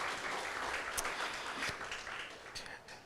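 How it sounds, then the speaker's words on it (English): Applause from a crowd at a Johns Creek City Council campaign launch event, steady dense clapping throughout with a few louder sharp claps and faint cheering mixed in. "let's give one more round of applause to the amazing council member"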